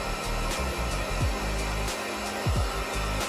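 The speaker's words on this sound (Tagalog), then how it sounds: "Parang nag-blow, dry blower lang." Steady whooshing drone of a handheld blow dryer pushing air, continuous and fairly close, with small pitch dips as it moves, during a massage session.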